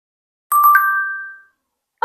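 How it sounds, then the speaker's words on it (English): AI-generated notification bell sound effect, a single bright chime with a quick double strike. It rings out clearly and fades over about a second against silence. "A notification bell."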